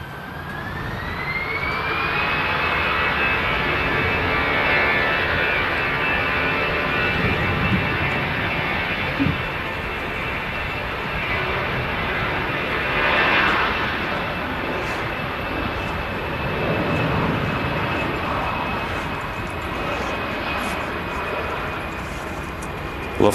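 A Lufthansa Airbus A319 departs Manchester Airport, its jet engines producing a loud, sustained roar with a rising whine that holds steady across the whole stretch, close and continuous.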